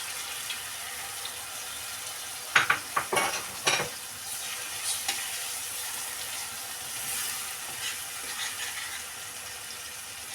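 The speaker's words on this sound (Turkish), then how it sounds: "Karıştırıyoruz." Egg being stirred into sautéed tomatoes in a hot pan, a faint steady sizzle with a short burst of scraping utensil strokes near the start, then quieter frying.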